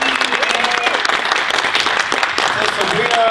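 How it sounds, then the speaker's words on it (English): Loud, dense applause fills a fan convention panel room at a pony fan event, a steady roar of many hands clapping close by throughout, with cheering voices mixed in. "so give her one more big round of applause."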